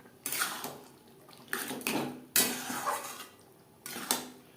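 Metal spoon scraping and clinking against a pan while boiled chickpeas are stirred into a spice masala over medium flame, a few short bursts of stirring with pauses between.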